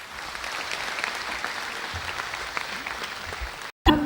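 An audience applauds at a centenary ceremony attended by the Prime Minister, giving a sustained, dense clapping from a large crowd that holds steady for several seconds before cutting off abruptly.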